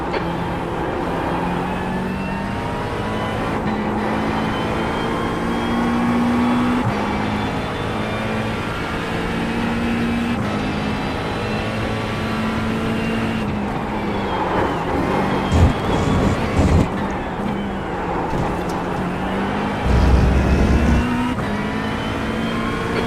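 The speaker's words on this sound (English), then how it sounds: "There's a faster car approaching." A race car engine in a racing video game drones loud and steady with shifting revs, and a few brief bumps and rattles near the end as another car closes in.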